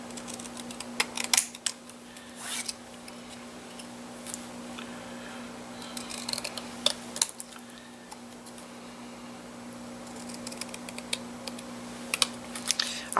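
Stamped paper for a Christmas card being trimmed with a paper trimmer, a series of crisp ticking and slicing clicks over a steady background hum, fairly close and quiet, no talking.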